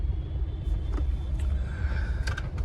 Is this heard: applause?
no